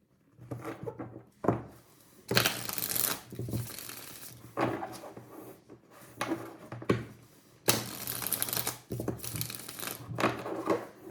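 A Rider-Waite tarot deck is shuffled by hand in a series of brisk, papery riffles and slides, each burst a second or so long and separated by short quiet gaps.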